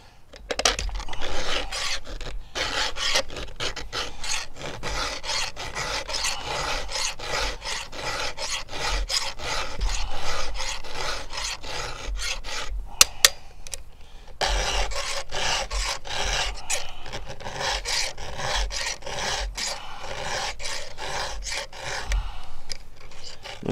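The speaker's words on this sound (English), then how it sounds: "Just sometimes I still like to hand file." Chainsaw chain sharpened with a hand file, a long run of quick rhythmic rasping strokes, close and steady, with a brief pause near the middle before the filing picks up again.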